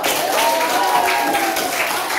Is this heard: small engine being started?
no